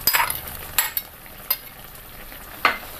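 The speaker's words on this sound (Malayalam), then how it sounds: "ഇനി അതിലേക്ക് നമ്മൾ വറുത്ത് വെച്ചിരിക്കുന്ന ബീൻസ് ചേർക്കാം" Fried green beans go into a simmering tomato curry gravy and are stirred, with several short scraping, sizzling stir strokes against the pan spaced across a quiet background.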